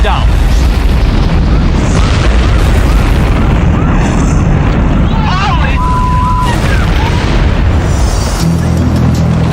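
A gas leak explosion and the fire that follows make a loud, sustained roaring boom with dense rumbling bursts, saturated and continuous, with a brief tone and a voice appearing near the end.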